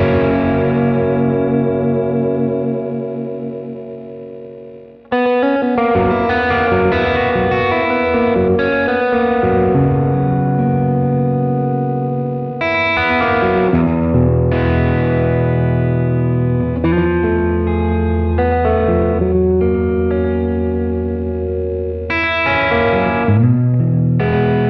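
A Gretsch electric guitar on its neck pickup plays articulate chords and melodic lines with effects and a touch of reverb, loud and continuous, no talk.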